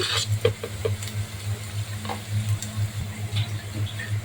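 Onion and garlic fry lightly in a pan, a soft sizzle broken by scattered ticks and pops, with a low steady hum underneath and no talking.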